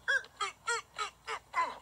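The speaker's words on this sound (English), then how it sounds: "Jeffy, that's a duck." A duck at a park quacks six times in a steady, evenly spaced series, each call loud, nasal and close, with no talking between.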